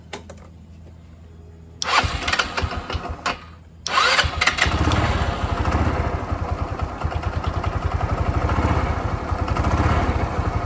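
A motorcycle engine cranks briefly, catches and settles into a steady, loud putting idle close by, with no talking.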